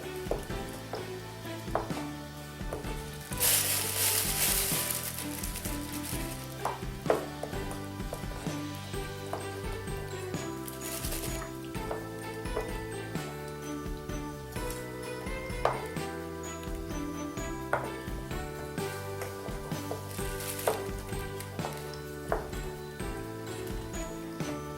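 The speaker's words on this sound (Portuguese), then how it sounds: "agora estou a mexer" Pumpkin fritter batter is stirred while frying fat sizzles in a soft, continuous hiss. Scattered metallic pings and light clinks of the utensil against the pot recur throughout, fairly quiet and with no talk.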